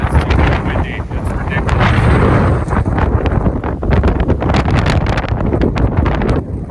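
Strong wind buffets the microphone on the peak of Sawmill Mountain, a loud continuous roar with gusty surges and rustling bursts throughout, and no clear speech.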